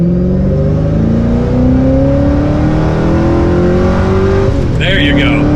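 A 2005 Ford GT supercar engine pulls hard under acceleration from second gear, its pitch climbing steadily through the gears with a high mechanical whine, loud and close throughout.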